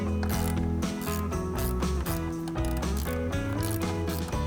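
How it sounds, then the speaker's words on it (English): Ratchet with a 10mm socket backing a bolt off a Jeep JL Wrangler inner fender, rapid close clicking pawl strokes in quick repeated bursts, loud and without talking. "Grab your 10 socket and get that pulled off."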